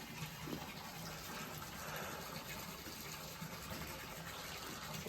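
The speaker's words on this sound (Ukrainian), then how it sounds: "Отак там тече вода." Steady gushing of water pouring into a cattle trough on a Charolais beef farm, a continuous splashing rush with no voices, heard fairly close.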